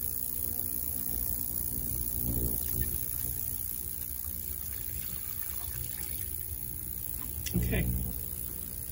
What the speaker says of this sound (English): Add a bit more water to it.